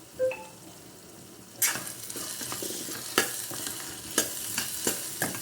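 A spoon stirs chilli powder and homemade garam masala into a drumstick and cashew curry in a hot pan, with a soft sizzle under repeated scraping strokes and a few sharp clinks against the metal.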